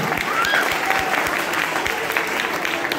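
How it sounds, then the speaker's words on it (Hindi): Seminar audience in Goshainganj breaking into loud applause, dense steady clapping from a crowd close by that lasts throughout. "तो हाथ खाली करके जोरदार तालियां करते था।"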